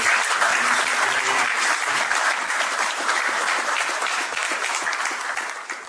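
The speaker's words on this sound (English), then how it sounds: "can you give another round of applause?" Sustained applause from a gala dinner audience at a Nigerian British event, steady and dense for several seconds before easing slightly toward the end, with no voices over it.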